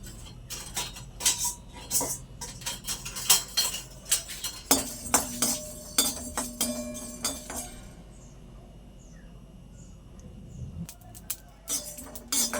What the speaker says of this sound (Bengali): গোটা ধনে গোটা জিরে শুকনো লঙ্কা অল্প কটা গোলমরিচ এটাকে আমি ভালো করে নেড়ে চেড়ে একটা মশলা বানিয়ে নেব